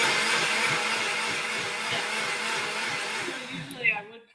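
A Ninja blender crushing ice for a smoothie gives a loud, steady, close roaring whir that holds for several seconds, then winds down and cuts off near the end.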